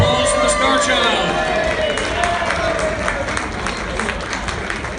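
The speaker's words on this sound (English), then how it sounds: "Can we get a round of applause for the Star Child?" A crowd at the Atlanta Expo breaks into applause and cheering, a dense and steady wash of clapping heard close throughout, mixed with crowd noise and a voice speaking over it.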